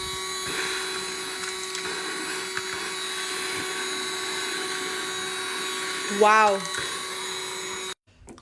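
Vacuum cleaner running on a marble kitchen surface, a steady high-pitched whine with a constant hum throughout, close and fairly loud, cutting off near the end; a person briefly exclaims.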